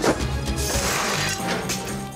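Glass smashing during a house demolition for a 1950s-inspired home renovation, a dense crashing clatter of breaking shards and debris that keeps rattling at fairly even loudness throughout.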